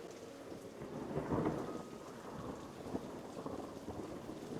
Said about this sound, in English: sounds like another storm's rolling in